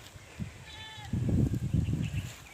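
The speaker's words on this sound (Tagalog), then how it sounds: "Ang daming kambing." Several goats on a Philippine farm bleat in a short burst of overlapping calls, nearby and moderately loud, with a faint high bird chirp and light outdoor background.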